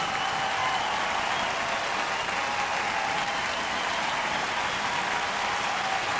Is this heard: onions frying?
no